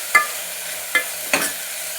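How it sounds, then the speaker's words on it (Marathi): Onion browning in a pan for a Maharashtrian black vatana curry, with tomato added, gives a soft background sizzle broken by three sharp scraping strokes of stirring, close and fairly loud. "कांदा चांगला खरपूस भाजू द्यायचा आहे"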